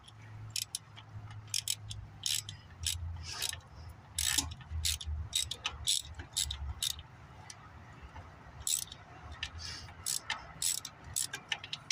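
Swivel-head ratchet wrench turning a bolt on a 1994 Chevy Silverado 5.7-liter 350 engine during a head gasket job, rapid clicking pawl bursts in quick irregular runs, close and moderately quiet, no talking.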